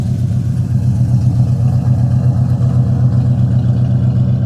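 A 1967 Dodge Dart GT's 273 four-barrel V8 idles steadily with a deep, even rumble, close by and fairly loud, with no talking over it.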